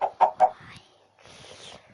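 A chicken in the Minecraft PE game gives three quick, loud clucks close by, followed by quieter chatter and faint game noise.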